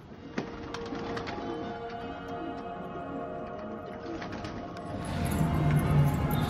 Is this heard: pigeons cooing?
yes